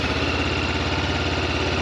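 Engine of a 2024 Honda CB500 Hornet motorcycle running with a steady, even idle throb, heard up close and alone.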